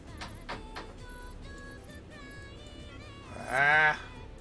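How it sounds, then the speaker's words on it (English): A cat that wants to be let out lets out one loud, drawn-out meow near the end, after some faint scattered sounds. "Got another kitty wants out"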